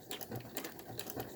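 A home sewing machine stitches knit fabric with a quick, steady mechanical whirring and a regular rhythm of needle strokes, close and faint, running alone.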